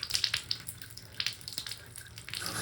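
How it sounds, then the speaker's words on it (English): Water running from a Moen faucet fitted with a 1222 valve, a steady faint splashing stream into a sink with soft, uneven bursts, heard close and alone. "As soon as I turn to the hot water, it stops flowing and then keeps going further to the hot water."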